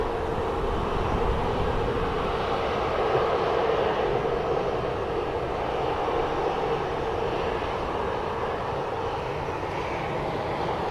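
An airplane departs from Manchester Airport, its engines producing a steady, sustained roar of even loudness with no voices over it.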